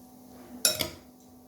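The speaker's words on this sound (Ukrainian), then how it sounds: "Ну і залишається все добре перемішати." Eggplant salad being mixed in a bowl: two quick clinks of a utensil against the dish in a row, close and fairly soft, with quiet around them.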